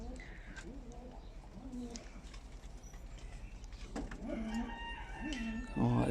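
Hens cluck repeatedly in short, rising calls over a low background rumble, with a rooster crowing nearby toward the end.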